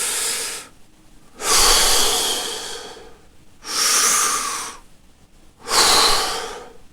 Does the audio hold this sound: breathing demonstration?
yes